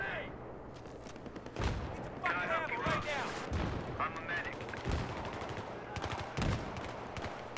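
Dense bursts of rifle and machine-gun fire crack through a Battlefield 3 firefight, loud and near, with heavy booms and scattered in-game radio voices layered over the battle noise.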